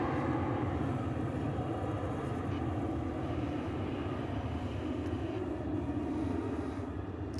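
An Airbus A380 moves on the ground at Dallas/Fort Worth airport, a continuous low engine rumble that stays steady and fairly distant, with no talking.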